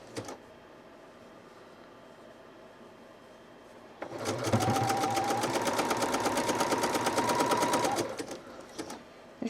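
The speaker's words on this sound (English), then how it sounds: "we're going to finish this with a zigzag" A sewing machine runs a zigzag stitch along a fleece hat, starting midway and whirring steadily with a fast rhythmic clatter for about four seconds before stopping, close and fairly loud.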